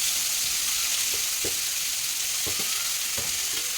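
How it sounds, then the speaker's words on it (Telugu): Dried silver fish and onions fry in hot oil with a loud, steady, close hiss, punctuated by several light stirring knocks and scrapes. "వెండి చేపలు వేగిన వెంటనే ఉల్లిపాయలు కూడా వేసేస్తున్నాను."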